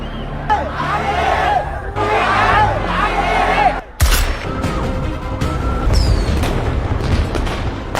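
Police open fire during a chaotic street protest in a film scene, loud booming shots over crowd noise and shouting, with a sharp blast near the middle followed by more scattered reports.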